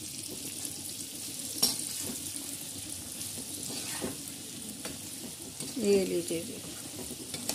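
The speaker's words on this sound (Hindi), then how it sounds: "बस इसके अंदर हम ये मिर्ची वगैरह डाल देंगे और इसको भी पका लेंगे।" Amla and green chillies sizzle and fry in a pan as they are stirred, a continuous crackling hiss with occasional scraping, while someone speaks briefly over the cooking.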